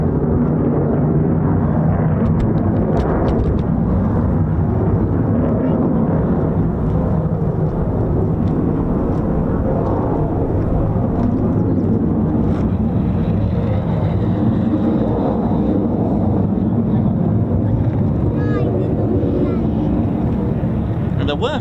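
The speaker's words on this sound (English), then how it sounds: "And there were 3 F-15s, but there's now 2" US Air Force F-15 fighter jets of the 48th Fighter Wing fly over RAF Lakenheath with a loud, continuous roaring rumble that swells and holds throughout, with no pause.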